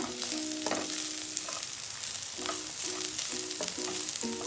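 Capsicum sautéing in a pan with fried fish added for a restaurant-style dragon fish, a steady close sizzle with repeated stirring scrapes and a few faint tonal beeps or squeaks over the frying.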